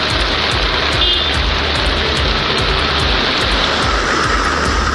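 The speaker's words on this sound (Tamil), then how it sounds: "காரைக்காலிலும் பல்வேறு இடங்களில் கனமழை கொட்டியது." Heavy rain pours down during a cyclone in Tamil Nadu, a loud, dense and steady roar of water that continues without a break and is heard alone.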